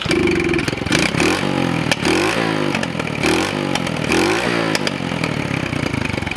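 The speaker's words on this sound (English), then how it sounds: "Maybe if I rev it up a little bit." A pit bike engine revs up close and loud, its pitch climbing and falling through several repeated throttle blips over a steady clattering idle.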